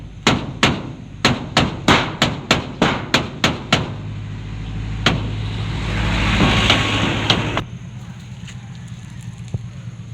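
Hammer blows drive nails into a store shutter, a quick run of about a dozen sharp, loud strikes, then a rumbling passing vehicle and a couple of later isolated knocks, close by.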